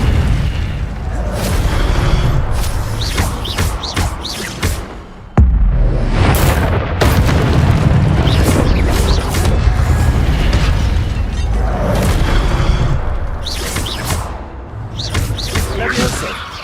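Incendio fire spells cast in the Hogwarts Legacy video game, loud repeated booming blasts and fiery bursts in close succession over constant combat noise, with one sharp impact partway through.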